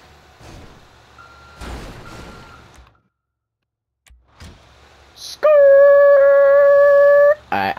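A tow truck's reversing alarm in GTA V sounds as a loud, steady electronic tone lasting about two seconds after quieter engine and traffic rumble, with a brief break in the middle.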